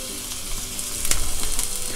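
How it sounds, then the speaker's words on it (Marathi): Finely chopped onion, minced in a chopper, sautéing in oil for a stuffed pomfret filling: a continuous close sizzle with a brief stir that briefly brightens the crackle, no talk. "आपण हा बारीक केलेला कांदा आहे तो घालून परतायचा आहे."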